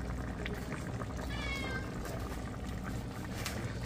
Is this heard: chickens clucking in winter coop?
no